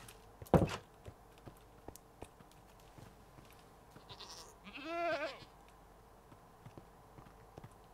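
Goats bleating in Minecraft, two short bleats a few seconds apart against a quiet background with faint thumps and soft footstep-like taps.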